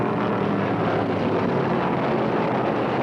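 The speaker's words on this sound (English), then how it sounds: "Isaac's Hemi sounds strong as he moves up on the inside to challenge Allison for the lead" A 1971 NASCAR Dodge Charger Hemi race car roars steadily at speed, a loud continuous engine drone with wind-blown rumble throughout and no gaps.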